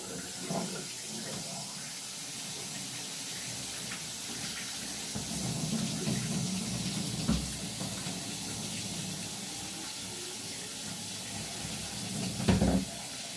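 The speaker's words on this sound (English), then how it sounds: "I'm just going to take this over to the sink and just give it a nice little rinse out." Sink faucet water runs steadily while a glass ice bong gets rinsed out, a continuous hissing splash with occasional clinks and knocks.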